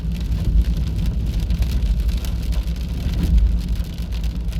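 Steady rain and hail drum on a car's roof in a dense, continuous patter, with a low rumble underneath and no voices.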